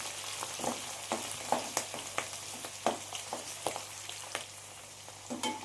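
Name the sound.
flat beans and ivy gourd frying in oil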